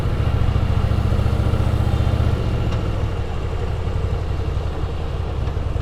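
A Harley-Davidson Fat Boy cruiser motorcycle engine idles nearby with a steady, low, throbbing rumble and light mechanical clatter, holding constant throughout with no talking.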